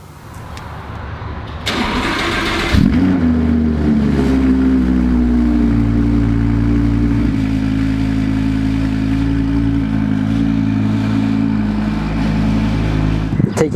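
An Audi R8 V10 Plus with turbo conversion fires up with a sharp starter whir and bark, then settles into a loud, steady, rumbling idle close by.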